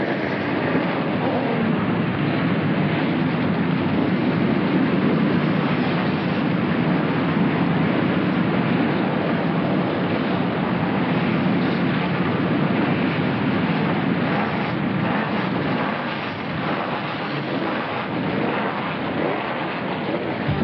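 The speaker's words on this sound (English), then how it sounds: "Gentlemen, start your engines." Loud, steady roar of many NASCAR Craftsman Truck Series race truck engines starting together at a distance at Louisville Motor Speedway in 1995, a dense rumble that holds unbroken throughout.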